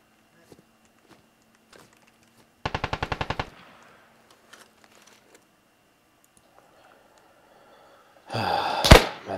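Bursts of automatic rifle fire in the military shooter game Squad, a sharp rapid volley early on and another loud close burst near the end, with quiet gaps between.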